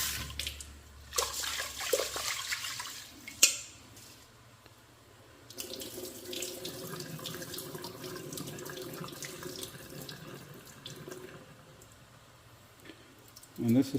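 Food for lettuce wraps is rinsed in a pot under a kitchen tap, with water running and splashing in bursts, a clatter of the pot, and brief pauses between flows.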